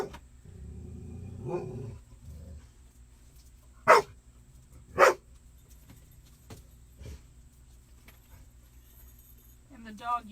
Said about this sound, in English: She lays right at the edge of the door, and she's barking at the cat.